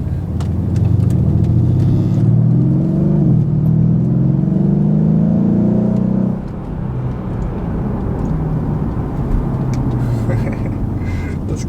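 A Mercedes-AMG E63S with a twin-turbo V8 in comfort mode, 800-plus horsepower, pulls hard with a loud rising engine drone that climbs for about six seconds, then settles into a lower cruising rumble.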